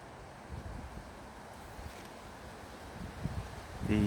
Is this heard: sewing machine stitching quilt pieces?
no